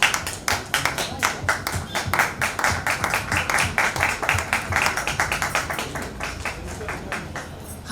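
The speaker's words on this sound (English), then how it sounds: "Can we have a big applause for Miss GUL PANAG on stage?" Audience applause welcoming a guest onto the stage at a marathon shoes and apparel preview event, with sharp, fairly rhythmic claps that stay steady throughout.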